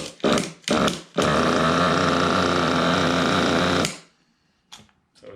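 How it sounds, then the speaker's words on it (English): A Kyosho nitro RC engine with glow starter fires up after a few short bursts, then runs at a loud, steady buzzing idle for about three seconds before cutting off, with faint ticks afterward. "we're ready to fire this thing up and let it idle."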